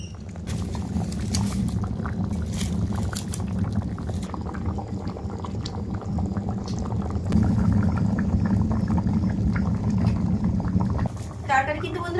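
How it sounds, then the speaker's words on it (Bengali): A vegetable and fish curry boils hard in a pot in a Sundarban home kitchen. The dense, steady bubbling and popping run throughout the clip at close range, with a brief clatter near the end. "এবার মাছ দিয়ে দেবো।"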